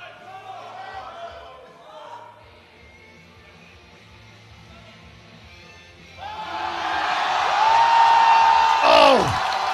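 An arena crowd at the 2023 IPF World Championships erupts into loud cheering and whooping after a deadlift. Commentary talk comes first, then a swelling roar with shouts, and a whistle sweeps near the end.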